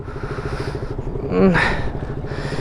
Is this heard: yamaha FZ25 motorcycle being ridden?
yes